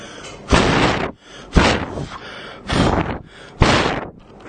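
Four loud bursts of breath blown straight into a plugged-in microphone, each a rough, booming rush of air with short pauses between.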